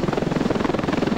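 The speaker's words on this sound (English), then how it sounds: "I can't get into the chopper in the first place." A helicopter in the video game Ravenfield gives off a steady, close rotor chop that thuds rhythmically without a break.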